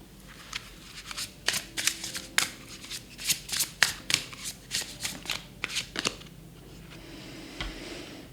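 Tarot card deck being shuffled by hand, a rapid run of crisp riffling bursts and soft slaps that come and go over several seconds, close and moderately quiet, fading to a faint rustle near the end.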